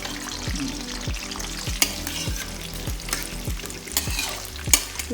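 Almonds roast in a pan over low heat, a steady soft sizzle broken by regular scraping stir strokes about twice a second, close and moderately loud with no talk.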